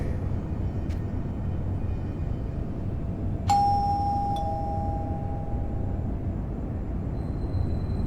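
A single two-tone doorbell chime rings clearly over a steady low ambient hum in the Fahrenheit video game, with a faint tone shortly after and no voices.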